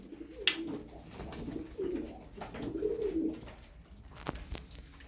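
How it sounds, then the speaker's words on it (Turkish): Turkish fancy play pigeons coo in low, throaty bursts, several calls overlapping close by with some soft fluttering and rustling in between. "Envai çeşit oyun kuşu atıyorum."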